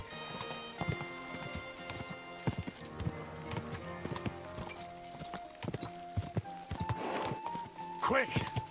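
A horse is ridden at speed in the medieval game Kingdom Come: Deliverance 2, its hooves beating out rapid, irregular clip-clops with a whinny near the end, all under a voice.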